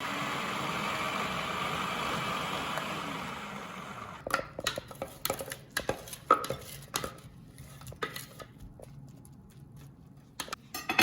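Food processor giving chopped onion a short run. A steady whirring motor hum lasts about four seconds, then stops into a scatter of clattering knocks and clinks from the machine and bowl.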